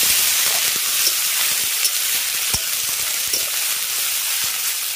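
A spice paste of ginger, garlic and dried red chilli paste fries in a pan, giving a continuous bright sizzle and hiss with occasional small pops, close and steady.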